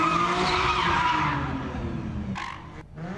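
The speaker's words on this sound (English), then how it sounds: "A viewer shared this video showing cars doing donuts as fireworks go off." Cars doing donuts at a street takeover in Long Beach, California, with loud, continuous tire squeal and skidding under a revving engine, close and sustained before tapering briefly near the end.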